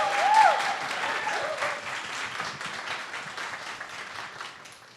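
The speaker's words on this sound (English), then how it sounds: "Round of applause for our third cycle of Playing Narratives contestants." An audience claps steadily for the Playing Narratives game pitch contestants at a 2023 event, a brief whistle rising at the start before the applause slowly fades.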